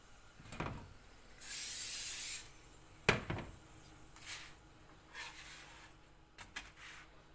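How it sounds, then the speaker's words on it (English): Short hissing sprays burst out several times amid soft knocks and handling noises, fairly quiet and close. "I'm using oil spray on both sides"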